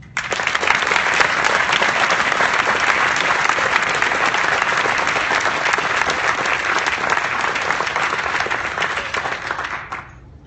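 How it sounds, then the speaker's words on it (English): A graduation audience in an auditorium claps without a break for about ten seconds, a loud, dense wash of applause that holds steady before fading out at the end. "I'd like to give you a round of applause."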